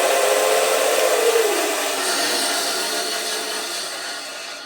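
A Record BS250 bandsaw motor whirs steadily after being plugged in, a broadband hum whose low tone drops away and settles into a fairly loud, even running noise that eases slightly toward the end, with no talking.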